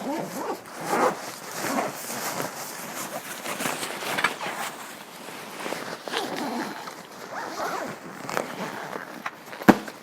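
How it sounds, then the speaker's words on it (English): Zipper on a Coleman Instant Up 10 Gold tent bag is pulled in repeated rasping strokes, close and fairly loud, with rustling fabric and a sharp knock near the end. "You got the zipper on your end, mate?"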